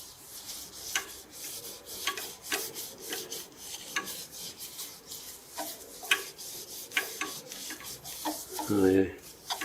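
Sanding sealer is rubbed with a cloth onto a natural edge elm bowl, giving repeated short scuffing strokes in an uneven rhythm, close and fairly quiet, with a brief louder knock near the end.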